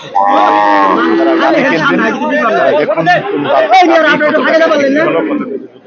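A Friesian dairy cow at the Hazratpur cattle market lets out a loud, close, drawn-out moo at the start, followed by continuous nearby talking and market chatter.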